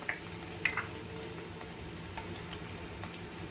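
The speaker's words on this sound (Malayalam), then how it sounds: "ചൂടായ എണ്ണയിലേക്ക് നമുക്ക് വെളുത്തുള്ളി ചതച്ചത് 1 ടേബിൾ സ്പൂണാണ് ഞാൻ എടുത്തിരിക്കുന്നത്." Crushed garlic, about a tablespoon, frying in hot oil for a hot and sour chicken soup, a steady soft sizzle with a faint tap or two early on.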